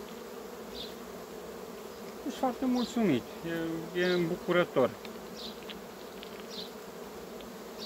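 Buzzing of a Buckfast honeybee colony with red-marked queen, a steady hum with someone speaking over it in Romanian for a few seconds.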